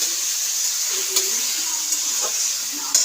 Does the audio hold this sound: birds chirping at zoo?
no